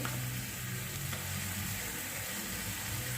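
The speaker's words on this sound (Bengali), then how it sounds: "আদা কাঁচা লঙ্কা টমেটোর পেস্ট ভালো করে আমি একটু কষিয়ে নেব" Ginger, green chili and tomato paste sauté in a pan over a low flame with a steady, dense sizzle that holds evenly throughout, close and continuous with no voices.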